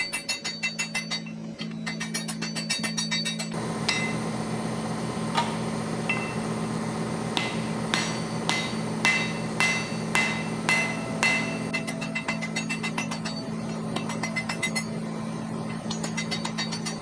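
A hammer strikes a hot steel butcher on an anvil to taper it into a chisel profile, ringing in a steady run of sharp metallic blows over a constant low hum from the forge.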